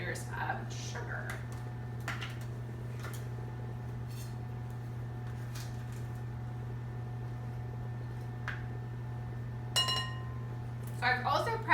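Salt and sugar are measured into yeast water for soft pretzel dough, with scattered light clinks of a measuring spoon against glass over a steady low hum, a few busier taps near the end.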